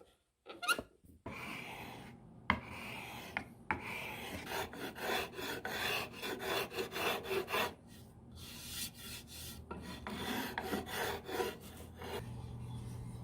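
A hand rasp shaves mahogany for a cigar box guitar body in a run of dry, scratchy rasping strokes. The strokes are close and steady, come in uneven bursts and short pauses, and nobody speaks.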